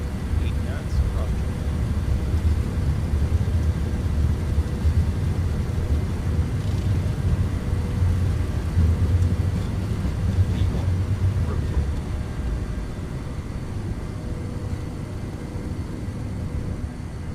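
Delta MD-88 jet engines roaring at takeoff thrust, a steady, loud, low-heavy rumble that holds throughout with no pauses, heard from inside the cabin and faintly masking a voice.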